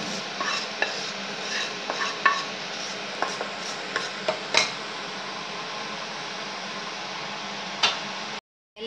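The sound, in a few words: stirring curry leaf tempering into rice for ven pongal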